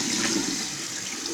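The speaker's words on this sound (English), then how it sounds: "So now I can go ahead and rinse this off my face using cool water again." Cool water runs and splashes as a face is rinsed at a sink, a steady, close rush of running water with no voices.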